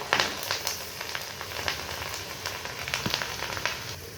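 Raw potato chips fry in hot oil in a kadai, giving a steady close sizzle scattered with sharp crackles and pops throughout.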